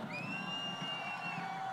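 A crowd at a Navratri garba night cheers and whoops in a steady roar, with whistles rising above the noise and no break.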